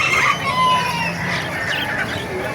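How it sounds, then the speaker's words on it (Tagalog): Hens clucking and fowl calling at a crowded Calumpit, Bulacan chicken market, a continuous layered chorus of birds with steady market noise underneath. "Itong heni nito mga Master, black na heni."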